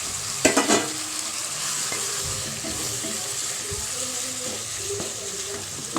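Chicken and tomatoes sizzle in a pan for a South Indian chicken gravy while a spoon stirs them, with a few sharp scrapes at the start over a steady frying hiss.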